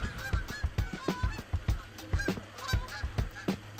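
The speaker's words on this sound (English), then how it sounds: "until the geese came" Geese honk repeatedly at close range beside a New Jersey pond, a rapid irregular series of loud nasal calls from several birds.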